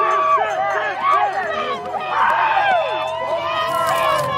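A crowd cheers and screams at a snowboard streetstyle contest, with shrill overlapping voices rising and falling throughout, loud and continuous.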